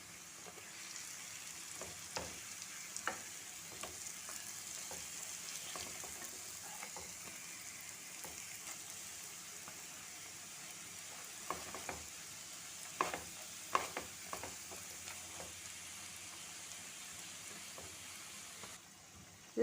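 A Kerala teatime snack fries in hot oil, giving a quiet, continuous sizzle with occasional stirring scrapes and soft clinks over about twenty seconds, no one talking.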